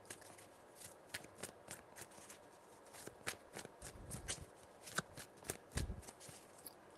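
Tarot cards are shuffled close by in a quiet room, a run of soft riffling bursts and flicks across several seconds with brief pauses between passes, no voices.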